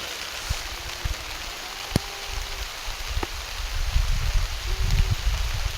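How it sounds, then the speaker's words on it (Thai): Rain falls steadily outdoors during an upland rice harvest, making a continuous broadband hiss with scattered sharp taps and a low rumble that thickens toward the end, with no voices. "ฝนตกพี่น้องเอ้ย"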